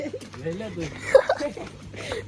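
Sparrows coo softly in the background while a person talks over them.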